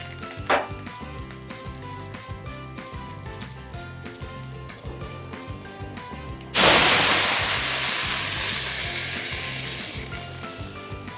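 Mackerel (bangude) masala fry with curry leaves in a pan starts with quiet, rapid ticking and clicking. A sudden loud, bright burst of sizzling then erupts and slowly eases off while staying strong.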